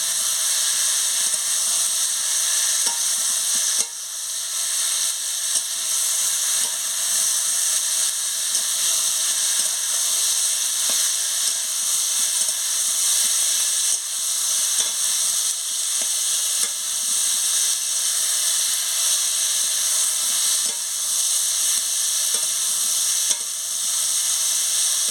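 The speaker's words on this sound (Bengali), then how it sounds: "দিয়ে ভালো করে আনাজগুলোকে কষিয়ে নিচ্ছি।" Pointed gourd, potato and pumpkin sauté with salt and spices in a pan, giving a steady, close sizzling hiss for the whole stretch with occasional faint stirring scrapes.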